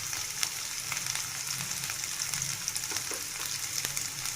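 Onions fry in a pan with a steady close sizzle and soft crackles throughout, no voices.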